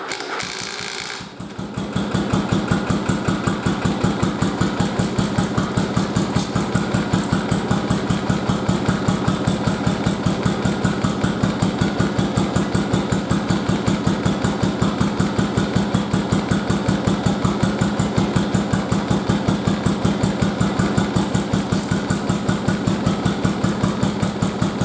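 A Yamaha Virago motorcycle, restarted after years of sitting, catches after a brief start and then settles into a loud, steady, even-pulsed idle that runs close up and uninterrupted, with no voices.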